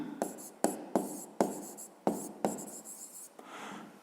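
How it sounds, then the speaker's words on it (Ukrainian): Handwriting on paper while working a 5th-grade maths exercise: a run of close scratchy pen strokes in quick bursts, each starting with a firm tap, with no voices over them. "Давайте так і запишемо тоді"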